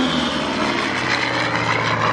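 Grumman Bearcat US Navy fighter flying at an air show, a loud sustained propeller-engine roar rumbling steadily overhead with no voices.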